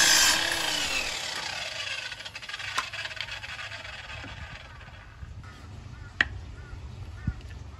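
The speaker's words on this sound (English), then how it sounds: "I cut a bunch of battens" A power saw cuts timber battens for cladding aquaponics grow beds. A loud cutting whine at the start fades to a low running rumble, with a few sharp knocks and clatters of wood near the end.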